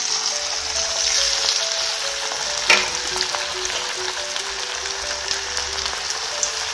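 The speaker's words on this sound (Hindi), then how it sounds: "इसको थोड़ा हम गरम तेल में ही तलेंगे।" A puri made from water chestnut flour fries in hot oil in a pan, giving a dense continuous sizzle with a faint spatter and one sharp knock partway through, heard close and without speech.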